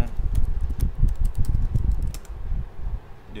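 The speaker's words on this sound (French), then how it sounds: "Je tape émission de méthane entérique." Fast, steady clicking of keys on a computer keyboard as a search query is typed, close and crisp over a faint fan hum, stopping near the end.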